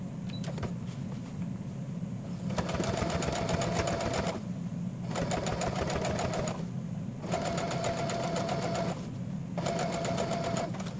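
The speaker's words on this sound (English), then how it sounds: "I'm going to go over it with my sewing machine." A sewing machine stitches a dress skirt of African print fabric in four rapid whirring bursts, each a couple of seconds long, separated by short pauses, close and steady over a low hum.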